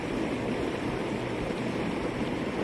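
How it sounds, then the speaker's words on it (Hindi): A swollen river rushing after Cyclone Remal in Ziro, with a loud, steady roar of fast-flowing water and no talk. "पानी का बहाव इतना तेज है"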